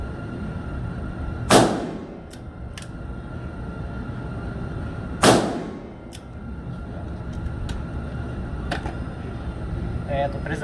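Two sharp, loud double-action shots from a Taurus RT444 .44 Magnum revolver with a 6.5-inch barrel, about four seconds apart, each with a quick echoing decay, against a steady low background.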